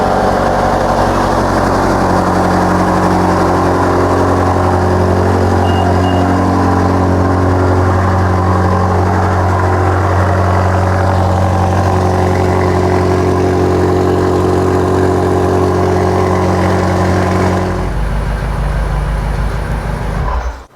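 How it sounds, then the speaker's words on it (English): A newer BMW engine idles steadily after a remote start, a close, constant rumble that holds for most of the stretch before suddenly dropping off near the end. "so that way you can enjoy the remote start on your newer BMW"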